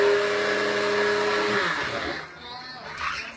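A NutriBullet blender fitted with its sharper blade grinds dried almond pulp into flour, a loud steady motor whine that winds down and fades partway through, leaving quieter clatter.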